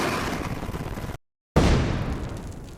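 Rifle gunfire: a loud sustained burst of shots, a brief dead silence, then another harsh burst that slowly fades out, with no talking.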